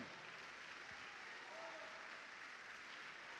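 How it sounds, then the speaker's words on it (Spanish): A church congregation applauds in a steady, sustained wash of clapping during a Sunday service, heard from a distance and filling the whole stretch evenly. "Vamos a darle un fuerte aplauso al Señor."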